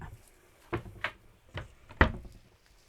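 A chair creaks in four short, separate bursts spaced unevenly across a quiet room, close and fairly sharp, with no talking.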